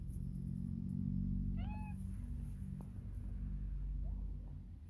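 A kitten gives one short, high meow over a loud low rumble of engine or road noise outdoors in spring, with a faint second call later and no talking.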